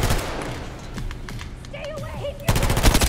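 Automatic gunfire from a video game gun fitted with a muzzle brake comes in rapid, clattering bursts, some spaced and some rattling together, ending in a loud close volley.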